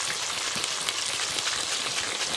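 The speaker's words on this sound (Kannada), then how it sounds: "ನೋಡಿ ಕಸ್ ಕಸ್ ಕಸ್ ಕಸ್ ಕಸ್ ಅಂತೇಳಿ ಎಣ್ಣೆಯಲ್ಲಿ ಫುಲ್ ಬಿಟ್ಟುಕೊಳ್ಬೋದು" Thin slices of breadfruit (jeegujje) frying in hot oil, giving a steady, dense crackling sizzle that stays even and close throughout, with no voices.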